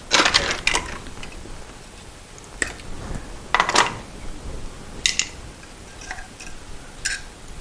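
A broken wire on a 1973 Moto Guzzi motorcycle is cut off, giving a few sharp, close snips and clicks separated by quiet gaps.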